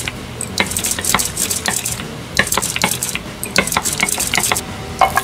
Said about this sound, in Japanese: 水ちょっと、マヨ混ぜます。